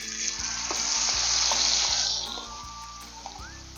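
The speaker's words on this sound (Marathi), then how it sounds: "तेल तापलं आहे आता वाटण टाकून घेते" Ground masala paste hits hot oil on a tawa with a loud, bright sizzle that swells and then settles into a softer hiss, with a repeated low scraping or tapping of stirring underneath.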